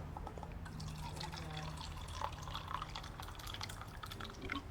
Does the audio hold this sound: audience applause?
no